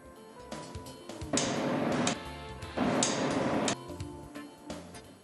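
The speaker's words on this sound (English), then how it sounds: "Tighten the coupling pieces using the torque spanner." A torque spanner tightens the coupling pieces on a B&W fuel valve, making two long bursts of harsh metallic rasping among smaller clicks and knocks, with no talking.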